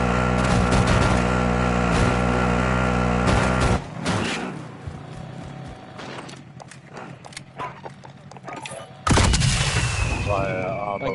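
Video game gunfire rings out in rapid bursts close by, loud cracking shots over a droning engine hum, then a quieter stretch with scattered shots before another loud burst, with a player talking in between.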